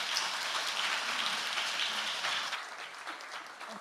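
Applause from a church congregation during a Sunday service, a dense, steady patter of many hands clapping together that fills the room and eases off slightly toward the end.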